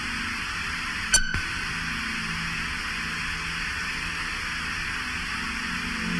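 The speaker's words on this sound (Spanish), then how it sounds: "Luego hubo un silencio seguido por estática." Steady hiss of static fills the whole stretch evenly at moderate loudness, broken once early by a sharp click, as part of a creepypasta narration with no voice present.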